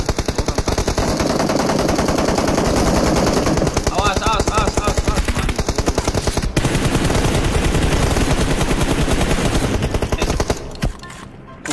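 Relentless automatic gunfire from a shooter video game rattles loudly and almost without pause, with a few sharper shots on top before it cuts out near the end.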